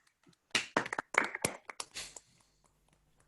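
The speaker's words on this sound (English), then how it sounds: "why don't we give a final round of applause for Matt" A small group gives a brief round of hand clapping for Matt at the close of a meeting, with sharp, uneven claps in scattered bursts that thin out and stop after a few seconds.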